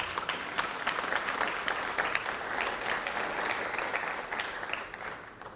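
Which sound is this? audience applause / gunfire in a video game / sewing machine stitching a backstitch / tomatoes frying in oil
audience applause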